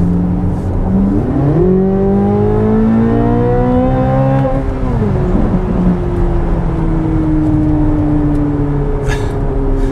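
Chevrolet C8 Corvette Z06 V8 at full throttle on track, revving hard up toward 8600 RPM with a rising shriek, a brief shift dip, then a sustained loud howl, close and alone.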